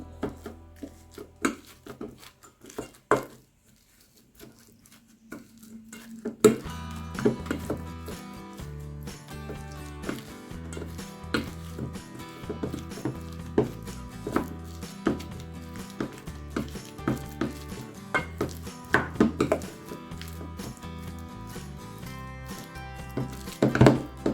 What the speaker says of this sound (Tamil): இப்போ நாங்கள் இந்த வாழைக்காயை நல்லா மசிச்செடுப்போம்